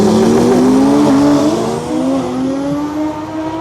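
Two cars, a Toyota Supra and a BMW M240, launch in a drag race, a loud engine roar with a rising pitch that sweeps upward as they accelerate away, steady and strong with a slight fade near the end.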